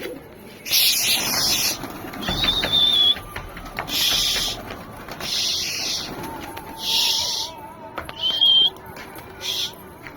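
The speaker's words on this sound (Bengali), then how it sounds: "এই সব আমার ওড়াই পায়রা" Pet flying pigeons coo in several short bursts close by, separated by quieter gaps, with occasional faint tonal calls and light background noise between the phrases.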